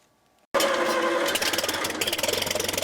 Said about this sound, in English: Travis Spivacek revs up his tractor